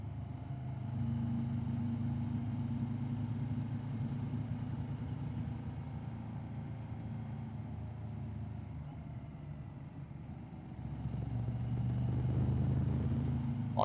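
Yamaha Ténéré 1200 motorcycle with a new exhaust setup, engine droning steadily and fairly loud throughout while riding on a road, with a lull near the ten-second mark before the engine note rises again.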